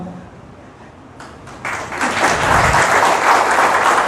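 Audience at a Marathi public speech bursts into loud applause, starting with a few scattered claps that quickly swell into sustained, dense clapping from a large crowd.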